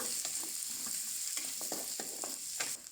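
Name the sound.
garlic and shallots frying in pan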